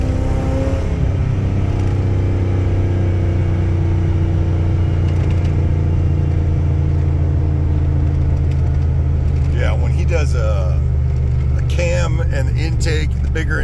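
Truck with a 460 EFI V8 and upgraded throttle body, stock intake and camshaft, roaring hard under acceleration with a deep, sustained drone, a voice speaking over it toward the end.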